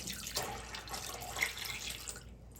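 Water pours from a tap into a container being filled for cleaning Atari 800XL key switches, a steady close splashing and trickling that rises and falls slightly, with no voice over it.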